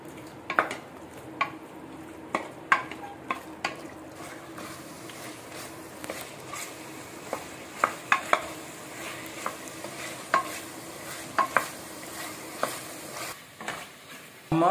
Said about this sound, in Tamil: ஒரு 5 நிமிஷம் நல்லா மட்டனை வந்து வறுத்துக்கலாம்